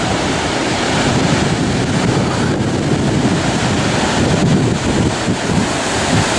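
Ocean surf rolls onto the Antrim coast in a continuous broadband roar, loud and close, with heavy wind buffeting the microphone throughout and no talking.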